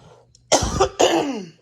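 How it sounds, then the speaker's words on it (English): Two quick, harsh throat-clearing bursts up close, one right after the other, in an otherwise quiet room. "I'm keeping clearing my throat because I have a frog in it."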